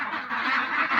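A flock of farm ducks quacks in a continuous, overlapping chorus at night while being counted, close and fairly loud throughout the brief moment.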